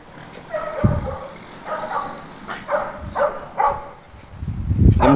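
Several dogs bark and yip at an animal shelter, a mix of sharp barks and higher whimpering yelps coming in irregular bursts, fairly close and loud, with a heavy burst near the end.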